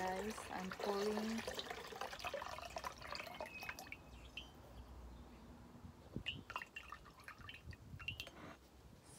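A homogeneous mixture of milk and water is poured over a potted orchid, giving a soft trickle and drip of liquid with scattered splashes, faint and close, with some handling noise early on.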